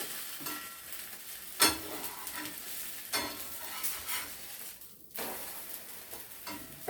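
A poha rava oothappam flipped on a hot griddle, soft sizzling broken by several spatula scrapes and taps against the pan, close but quiet with no speech.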